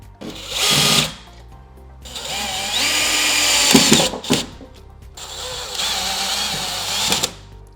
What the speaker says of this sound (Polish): Plus jeszcze zamontujemy sobie tutaj trzy śruby mocujące, żeby się wszystko ładnie trzymało.